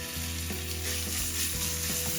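Crushed ginger-garlic paste sizzles and crackles steadily in hot oil, a close, continuous frying hiss with a few soft stirring clicks and no voices.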